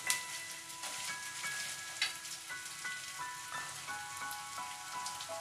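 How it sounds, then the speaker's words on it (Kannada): Poha frying in a pan, with a continuous crackling sizzle that patters like rain and occasional sharper pops, faint and close. "ಸೂಪರ್ ಫ್ರೈ ಆಗ್ತಾ ಇದೆ"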